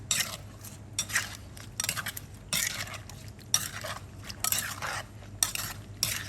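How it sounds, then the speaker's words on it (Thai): Papaya salad with pork sausage, squid and shrimp being stirred and tossed by hand with a utensil, giving repeated clinking, scraping strokes in irregular bursts against a bowl, close and clear with no talk. "จากนั้นเราจะไม่ตำแล้วนะคะ เราจะใช้คนเอานะ"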